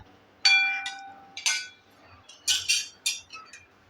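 A spoon clinks against a metal bowl while sugar is stirred into raw mango pieces for jam, giving several bright ringing taps in an uneven rhythm, close and clear with no talk.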